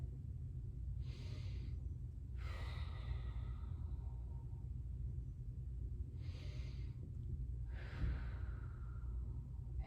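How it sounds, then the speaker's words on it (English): Slow deep breaths during a cool-down floor stretch, four long airy inhale and exhale swells spaced a couple of seconds apart, close and soft over a steady low background hum, with no talking. "You want to deep breathe here, 3 or 4 deep breaths."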